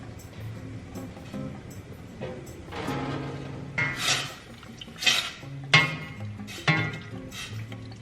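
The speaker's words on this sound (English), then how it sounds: "I'm just gonna pop these pastas in and let them boil for like a couple minutes" Pasta goes into a pot of boiling water amid a series of clanks and metallic knocks of pot and utensils, with soft bubbling between the louder bumps.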